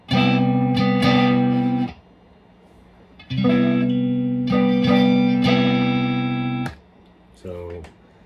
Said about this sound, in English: he's basically just pulling his pinky off and on